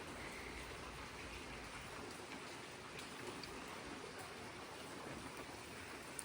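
Rain falls steadily around a lakeside property with a boathouse in Fruitland Park, a soft, even hiss of drops on surfaces that continues without a break and stays fairly quiet.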